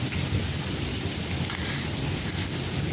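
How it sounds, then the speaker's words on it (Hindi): Heavy, dense rain with hail pounds steadily on surfaces during a sudden storm after hot weather, a continuous loud roar of downpour with low rumbling underneath and no voices. "इतनी सख्त बारिश आई,"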